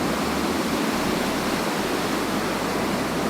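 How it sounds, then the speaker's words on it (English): A small waterfall in a botanical garden pours with a dense, constant roar of splashing water, close and loud, steady throughout with no voices. "currently I'm in front of a small waterfall"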